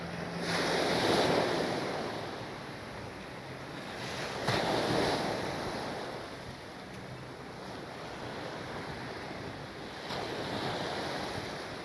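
Waves and surf wash ashore at Druif beach in Aruba in slow, rolling surges, with steady wind noise against the microphone and no voices.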